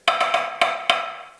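Triplets with diddles on the downbeats, led by the left hand, played on a drum: five bright, ringing strokes in an uneven pattern with quick doubled hits, close up and solo.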